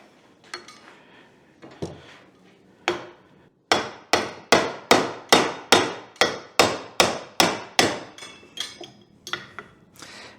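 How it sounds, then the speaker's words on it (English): A small hammer smacks a loose pneumatic piston on a bar stool in a long run of sharp metallic strikes, starting sparse and irregular, then settling into a steady, evenly spaced series of loud close blows before tapering off. "just got to keep smacking."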